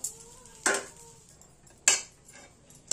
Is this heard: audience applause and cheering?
no